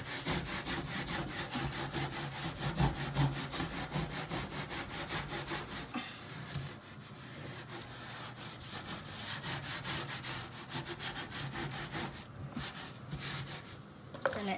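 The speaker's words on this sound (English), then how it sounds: "Here's a sponge. And you guys just scrub," A sponge scrubs a stove in steady, rapid back-and-forth strokes, loud and continuous at first, then rougher and more uneven, with no talking.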